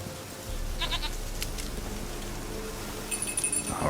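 A goat bleats in The Witcher 3, a few short wavering calls over a low outdoor ambience, with a faint jangle of metal near the end.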